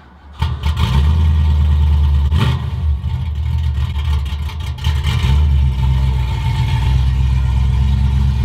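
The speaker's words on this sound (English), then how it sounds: "Probably the most requested thing for me to do is do a cold start" A 1967 Volkswagen Beetle, back on the road after more than 15 years, cranks and fires on a cold start, then settles into a loud, close, rough idle with occasional revs.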